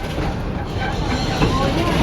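Serengeti Railway train ride through an animal park at Busch Gardens in Tampa, Florida: a steady, fairly loud rolling rumble and rattle of the moving train cars, continuous with no pauses and no clear speech.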